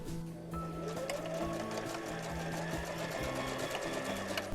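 Patchwork fabric strips feed through a sewing machine in a steady, continuous stitching whir with a rhythmic mechanical tick, heard close and fairly quiet throughout.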